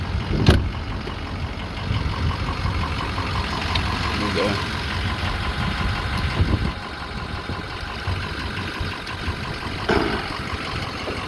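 A 2007 Ford F250 4WD pickup with about 147k miles idles steadily nearby, a continuous low engine rumble with a brief knock or two, while someone talks over it.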